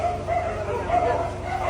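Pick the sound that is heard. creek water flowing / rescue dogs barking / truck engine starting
rescue dogs barking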